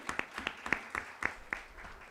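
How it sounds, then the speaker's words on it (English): Sparse, faint applause at a business conference: only a handful of separate claps at an irregular, slow pace, quiet and close, with no voices. "Can we have a big round of applause for her?"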